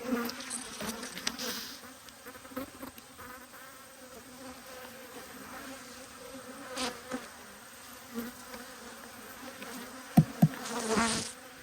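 Honeybees buzzing around an opened hive in a backyard apiary, a steady droning hum of many bees with occasional louder close fly-bys and a couple of brief knocks near the end.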